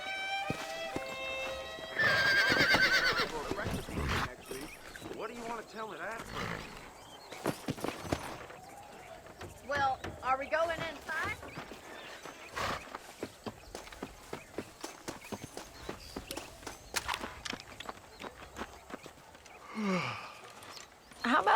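A horse neighs and its hooves clip-clop on a trail in the Red Dead Redemption video game, with a loud whinny early on, then rhythmic hoofbeats and further snorts amid scattered game sounds.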